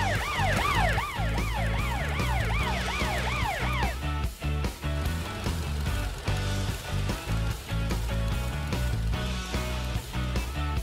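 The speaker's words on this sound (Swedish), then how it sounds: "Glöm inte att använda din siren och ditt blåljus, Amber." Wailing two-tone siren of a cartoon emergency vehicle, a children's animated train character with flashing blue lights, loud and continuous for about four seconds before upbeat music takes over.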